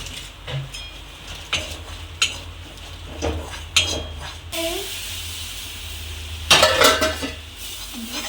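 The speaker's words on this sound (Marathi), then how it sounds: "तर मी हा मैदा पण चांगला खरपूस भाजून घेते" Flour roasts in a pan for a corn spinach sandwich, a soft sizzle beneath repeated scraping and clinking of a spoon against the pan, close and moderately quiet.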